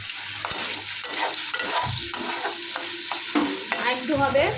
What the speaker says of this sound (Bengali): এবার দেখো চিংড়ি মাছগুলো আমাদের ভাজা হয়ে এসছে প্রায়।